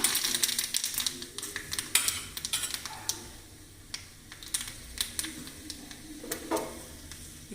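Mustard seeds and urad dal spluttering in hot oil for a Madurai-style chutney tempering, irregular sharp pops and crackles over a faint sizzle, close and moderately quiet.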